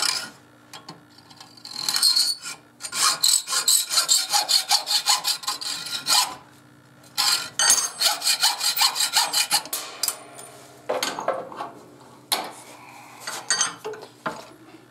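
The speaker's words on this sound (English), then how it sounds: "I'm going to use a hacksaw." A hacksaw cuts off the thin end of a steel knife blank, rapid rasping back-and-forth strokes in bursts separated by short pauses, close and fairly loud.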